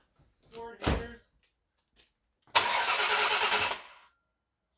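Ford Explorer ST fitted with Xtreme-Di 25% injectors cranks and catches in a short, loud burst lasting about a second and a half. A brief voice sounds a moment earlier, and near silence comes before and after.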